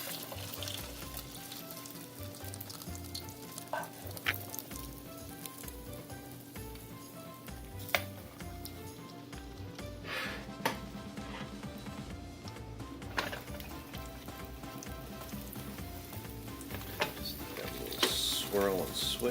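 Rabbit fries in hot bacon grease with a continuous crackling sizzle, joined by frequent clicks and scraping of a utensil against the pan and a few sharper clanks.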